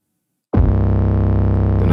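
Heavily distorted 808 bass, crushed hard with the Camel Crusher plugin, kicks in abruptly and sustains as a loud, gritty, throbbing low tone with a steady pulsing ripple, alone with no voices.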